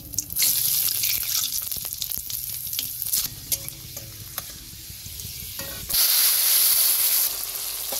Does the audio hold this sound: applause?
no